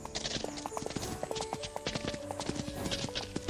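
Horse hooves clip-clopping in a video game, a brisk, steady run of crisp, close hoof strikes carrying on throughout.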